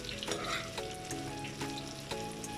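Chickpeas and paneer sear in a hot pan, crackling with a steady, dense sizzle broken by sharp pops and clatters as the pieces shift and the pan is stirred.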